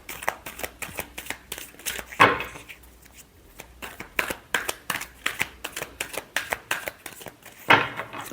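Tarot cards shuffled by hand up close in quick riffling bursts, with rapid papery flicks and a few louder snaps as the deck is squared.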